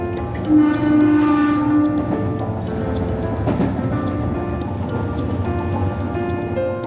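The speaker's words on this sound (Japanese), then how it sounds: "各駅停車の列車に乗ってるだけなんですけど" A local train on Japan's Nagasaki Main Line rumbles steadily along the rails with rhythmic clatter and hum, and a brief tonal whine rises early on inside the carriage.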